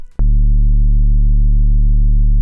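Synthesized sine-wave sub bass from the Vital synth, with soft-clip distortion and the drive raised, enters after a brief cutoff of a previous sound and sustains as one loud, steady, low humming tone with faint added harmonics.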